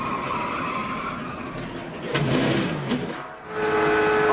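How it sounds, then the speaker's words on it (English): A race car engine roars steadily at the 2002 Daytona 500, with a loud skidding surge as a car spins and backs into the wall, then the engine note drops and climbs again. "Listen to the engine."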